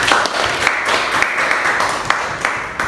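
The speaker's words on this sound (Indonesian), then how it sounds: "Aplaus untuk kita semua" A class of children applauds together, a steady wash of dense clapping from a room full of kids, moderately loud and continuous with a few sharper claps standing out.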